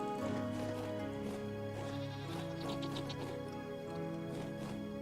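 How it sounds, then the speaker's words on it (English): Goats bleating in the survival video game Vintage Story, repeated wavering bleats layered over a steady droning game soundscape, moderately loud with no talk. "The last thing I want is for one of these goats to attack me."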